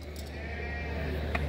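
Goats bleat amid the steady, noisy hubbub of a crowded small-livestock market in Çorum, Turkey. The cries are faint and partly buried under constant crowd and yard noise.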